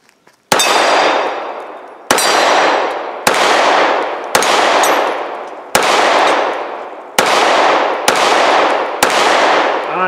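Eight loud, sharp HK P30 pistol shots fired outdoors at steel targets about 10 yards away, each crack followed by a long ringing decay, spaced roughly one to one and a half seconds apart.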